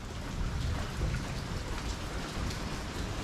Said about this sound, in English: that is kind of a nice soft rain now